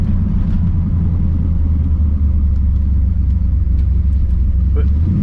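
A 1979 Ford F100 pickup with a 408 stroker V8 drives along, its engine a steady, loud low rumble heard from inside the cab throughout, with faint sounds of passing traffic.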